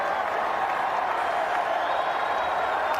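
A baseball stadium crowd at a Cardinals game sends up a sustained, distant wash of cheering and applause, a steady roar with no breaks.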